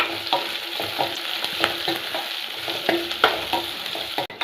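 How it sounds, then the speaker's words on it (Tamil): Chopped onions and about a dozen cashews sauté in a hot pan with a steady close sizzle, while a utensil scrapes and stirs in regular strokes; no one speaks. "இதையும் சேர்த்து நல்லா வதக்கி விட்டுக்கலாம்"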